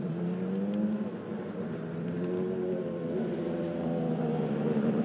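GT race cars, including a Lamborghini Super Trofeo, driving through the Château d'Eau corner at Magny-Cours during a sprint race, a steady, moderately distant engine drone with shifting pitched harmonics as cars hold revs through the turn.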